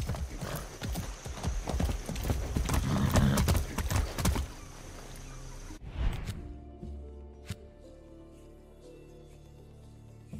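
Horse hooves clip-clop at a steady riding pace in the video game Far Cry 6, loud and rhythmic with snorting and a whinny, before the hoofbeats stop and the scene quiets.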